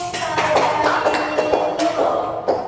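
Classroom applause for a student after an Indonesian reading exercise, a burst of many hands clapping fairly close and steady throughout, with brief voices mixed in.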